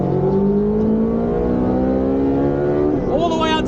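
A Ferrari Speciale's engine revs hard and climbs steadily to about 9,000 rpm, its loud harmonic wail rising without a break for several seconds before it abruptly drops off as the next gear goes in.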